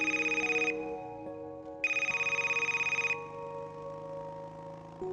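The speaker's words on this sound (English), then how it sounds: "I hear the phone ring." A telephone rings in a 1990s-set video game, two loud electronic ring bursts separated by a short pause, over a steady background music bed.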